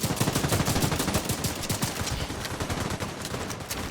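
Rapid shotgun and automatic gunfire in The Division 2 online player-versus-player combat, a dense, loud stream of overlapping blasts with no pauses across the whole stretch.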